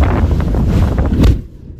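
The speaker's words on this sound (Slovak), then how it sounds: "ten vetrik, čo vonku fúka" Wind blows outside in Bratislava, a loud, rough buffeting roar against the microphone for most of the moment before it drops away suddenly near the end.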